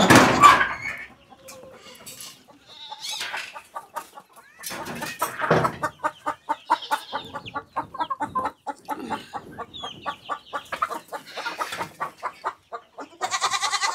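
Free-range village chickens cluck close by in a long, rhythmic run of repeated short calls, with a few louder squawks and scattered rustling in between.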